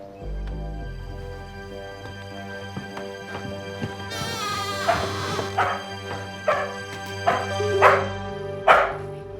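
A dog barks in a series of sharp, fairly close barks, getting louder toward the end, with a low steady hum underneath.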